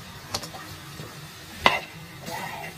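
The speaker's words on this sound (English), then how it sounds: "we just stir fry" Noodles and vegetables are stir-fried in a pan, with a few sharp utensil scrapes and clacks over a soft, low sizzle, close by, brief and without speech.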